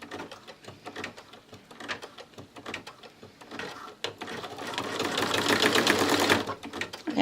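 Embroidery sewing machine tacking down ribbon on an in-the-hoop zipper bag, a rapid needle chatter that starts lighter and builds into a loud, dense mechanical whir, heard up close with no talking.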